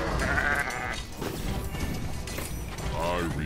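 Sheep bleat in the video game Incursion Defense. Two short, wavering bleats, one near the start and one near the end, sit within busy game noise and clatter, with a voice talking over them.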